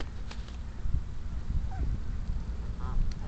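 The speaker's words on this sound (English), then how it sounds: "They hiss. Yeah, they quack." Geese being fed bread give a few short honks and squawks at close range over outdoor background noise.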